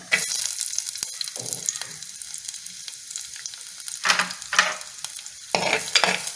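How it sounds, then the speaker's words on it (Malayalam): Chopped small onions fry in coconut oil in a clay pot, a steady close sizzle broken by a few louder bursts of stirring and crackling as the pieces are tossed. "ഇനി നമുക്കിതിലേക്ക് അരിഞ്ഞ് വെച്ചു ആ ഉള്ളി ഞാൻ കാണിച്ചത് 10-12 ഉള്ളി ഉണ്ടായിരുന്നു, ചെറിയ ഉള്ളി. അത് അരിഞ്ഞതാണ്, അത് നമുക്ക് ചട്ടിയിലിട്ടിട്ട് കൊടുക്കാം."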